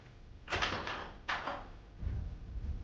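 Big hotel washroom door opening, two broad thumping swishes in quick succession followed by a softer low rumble, moderately loud and close with no talking.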